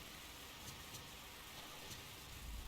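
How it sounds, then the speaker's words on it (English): Light rain drizzles steadily on a house in the video game Fatal Frame, a soft, even hiss of fine drops with no talking, faint and unbroken throughout. "There's something comforting about the sound of rain"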